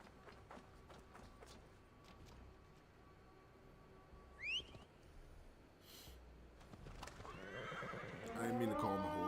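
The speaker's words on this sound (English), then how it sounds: "I didn't mean to call my horse." Horse neighing in the video game Assassin's Creed Valhalla, a clear whinny midway amid clip-clop hooves and snorts, with a voice speaking and rising movement noise toward the end.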